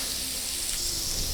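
Two chopped green chillies sizzling in hot tempering oil for a savory adai, a steady close hiss of frying with no talking.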